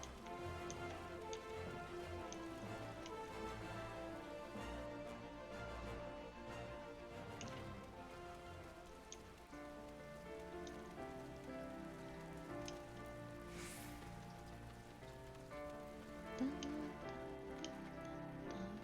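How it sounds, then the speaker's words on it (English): Steady rainfall patters on surfaces outside Ul'dah in Final Fantasy XIV, a continuous soft wash of drops with scattered ticking hits, layered over gentle game music and with no voices. "Ooh, baby, it's raining."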